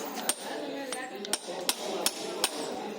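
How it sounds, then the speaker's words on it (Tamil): Metal hammer tapping a bearing puller to drive an engine bush out in a workshop, about six sharp, evenly spaced clinks over a steady background hum, fairly close, with no talking. "நம்ம சுத்தியல் வச்சு மேல வந்து தட்டி அந்த புஷ்ஷை வந்து இப்போ நம்ம வெளியில எடுக்குறாங்க"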